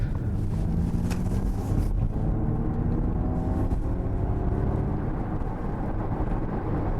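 Steady broadband road roar from the tyres on tarmac fills the cabin of a moving Ford Mustang Mach-E GT, a continuous rumbling hiss with faint wind noise and no voices.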